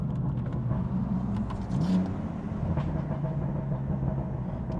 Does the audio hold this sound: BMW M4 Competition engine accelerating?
yes